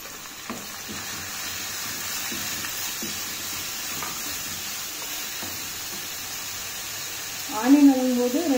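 Finely chopped onions sauté in a pan for mushroom masala with a steady, close sizzle. There are faint clinks throughout, and a voice comes in briefly near the end.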